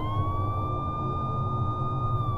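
Siren wailing steadily in a sustained high tone over a low rumble, fairly faint and even in level without clear approach, no voices.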